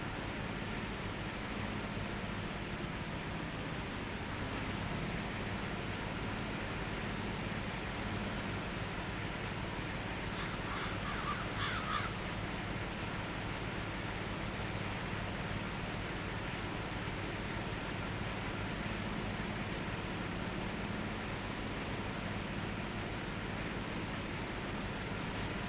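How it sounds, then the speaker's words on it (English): John Deere terrain cut mower in Farming Simulator 22, mowing a golf course: a steady, droning engine rumble that stays constant throughout, with no voices. "The terrain cut mower, guys, is the perfect machine for the job here."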